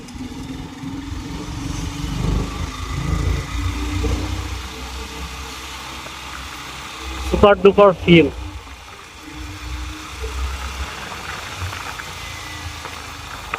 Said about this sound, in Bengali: বাইকটার ইঞ্জিন থেকে হালকা সাউন্ড আসতেছে